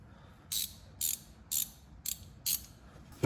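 A 19 mm box-end ratcheting wrench turns a nut on a Trackhawk during a lowering-spring install, giving five evenly spaced bursts of quick ratchet clicking about half a second apart, followed by a louder metallic clunk at the end.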